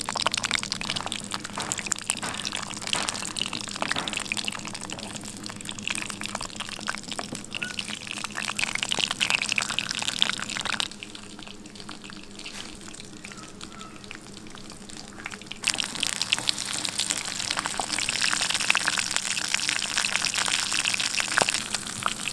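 Cut green chillies frying in hot oil for a pickle, a continuous close sizzle and spatter that dips in the middle and then swells again.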